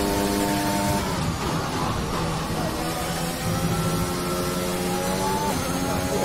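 In the F1 2021 racing game at Monza, Italy, a Formula 1 car's engine screams at high revs. It holds a continuous, dense drone with steady harmonic tones throughout.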